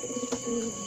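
Soft pigeon cooing, a few low murmuring coos in a steady background hum, fairly close and not very loud.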